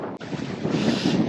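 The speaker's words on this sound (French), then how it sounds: "15 nœuds de vent" Wind gusts across a sailboat at anchor in an exposed anchorage, a steady close roar buffeting the microphone, with a brief knock near the start and no voices.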